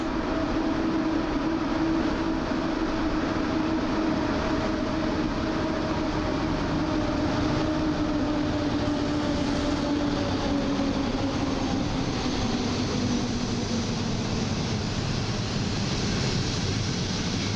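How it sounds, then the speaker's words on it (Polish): A TLK Kormoran passenger train rolls loudly along the new platform at Warszawa Zachodnia, a continuous heavy rumble with a faint tonal hum that slowly drops in pitch as the cars pass. "Pociąg TLK Kormoran z Olsztyna Głównego do Katowic z wagonami dwoma do Polanicy Zdroju."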